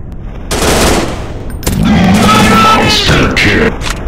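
Rapid gunfire bursts ring out in the Android game Counter Strike Commando Mission, loud automatic volleys following a brief quiet start, with voices mixed in.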